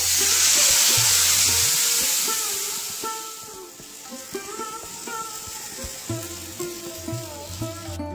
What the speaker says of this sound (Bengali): তারপর সব সবজিগুলো দিয়ে জল ঢেলে দেব।